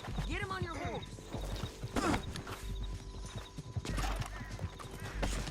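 Horse hooves clip-clop and a horse whinnies in the Red Dead Redemption 2 game, with voices talking over and between the steady hoofbeats and a loud neigh near the start.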